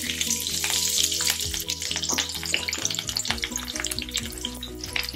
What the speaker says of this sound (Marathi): आता यामध्ये मी थोडा एक बारीक चिरलेला कांदा घालते.